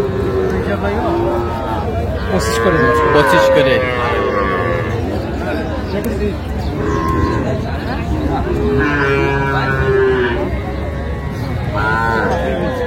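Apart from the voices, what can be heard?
young bulls mooing at a cattle market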